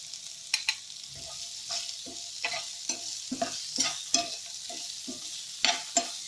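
A spoon stirs amla pickle mixture in a hot pan, producing a soft sizzle with a regular series of scraping strokes and light knocks, close and fairly quiet.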